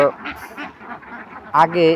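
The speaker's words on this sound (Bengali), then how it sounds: "১২২টা হাঁস আছে" Ducks quack on a small farm, a few nasal calls close by that blend with a person's voice.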